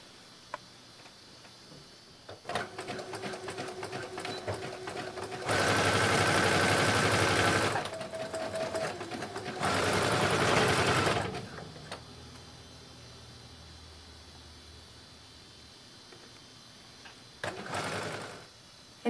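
A sewing machine hems the sleeves of an empire waist swim dress, running in two loud sustained bursts of rapid stitching separated by a pause, with quieter handling sounds and a short final burst.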